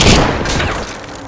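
A single sniper rifle shot in a war film about a Russian and German sniper duel, a loud sharp crack whose booming, reverberant tail fades over about a second.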